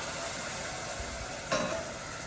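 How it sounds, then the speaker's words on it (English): A steady, close sizzle of rice frying in a hot pan for risotto, with a brief louder burst near the end. "You hear that sizzle?"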